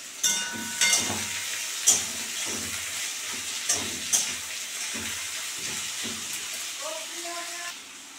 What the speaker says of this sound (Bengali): তেল গরম হয়ে গেছে। এখন আমি পেঁয়াজ কুচানোগুলো দিয়ে দিয়েছি।